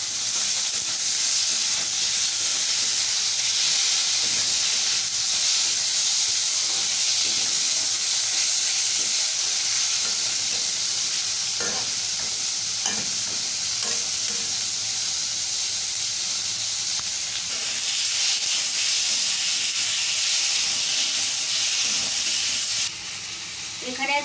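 Green chillies and tomato frying in hot oil in a pan for a Bengali tangra fish curry, a loud continuous sizzle and hiss with occasional scrapes and knocks of stirring, close and steady throughout.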